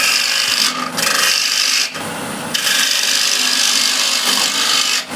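A woodturning tool cuts into a piece of timber spinning on a lathe, making a loud, close, continuous rasping scrape broken by a couple of brief pauses.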